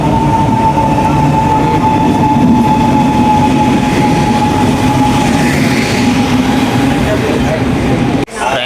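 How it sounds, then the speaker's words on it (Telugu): A passenger train at a railway station gives a loud, steady low rumble with a faint sustained whine above it. The sound runs continuously until a sudden brief drop near the end. "ట్రైన్ అయితే ఎక్కినాం."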